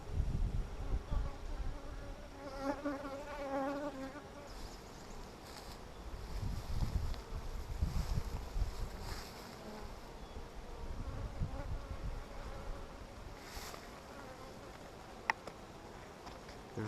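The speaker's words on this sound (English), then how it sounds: "There's definitely more bees than there was a week ago." Honey bees buzz around an open hive during a hive inspection, a steady soft drone of many insects close by with no talk over it.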